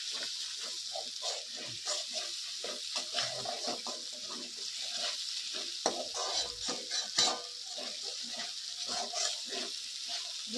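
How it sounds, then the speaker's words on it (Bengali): Spices with turmeric being stirred and fried in a pan for fish curry, a close, continuous sizzle with scraping strokes of a spoon against the pan and no talking. "ভালো করে নেড়ে চুড়ে এটাকে মিক্স করে দিতে হবে।"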